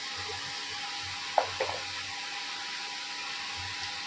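Food frying in a pan during home cooking, a steady broadband sizzle that runs throughout at low level, with a couple of brief clinks or stirring sounds partway through.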